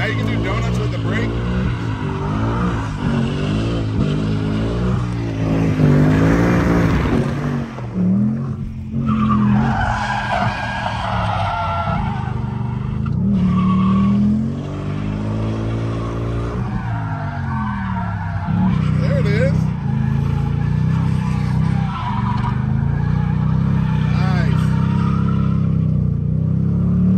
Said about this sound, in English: Now you can do donuts with the brake